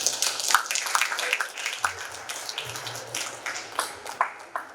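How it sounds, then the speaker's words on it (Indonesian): An audience at a public talk on fuel subsidies gives a round of applause, with scattered claps popping over a murmur and faint voices, lively at first and then thinning out. "Tepuk tangan."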